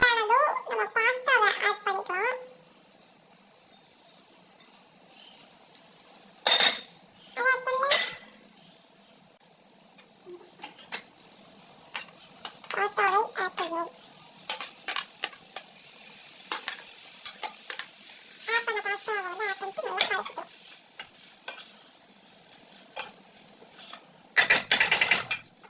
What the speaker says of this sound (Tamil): அகெயின் வதக்கிக்கிறோம்.